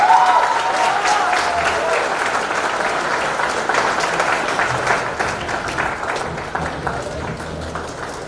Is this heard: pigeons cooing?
no